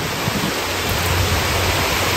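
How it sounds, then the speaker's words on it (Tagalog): Rain falls steadily in the Philippine countryside as an even, hissing wash of noise with no breaks and no voices. "Umuulan."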